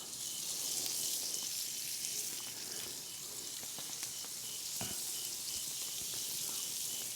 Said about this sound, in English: So I'm gonna start mopping it on this side and make the fire go crazy.